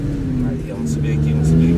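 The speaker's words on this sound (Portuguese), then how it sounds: "Esse carro berra demais, mano." An Audi R8 engine revs loud and close, its deep, throaty roar rising and swelling steadily, while people talk excitedly over it.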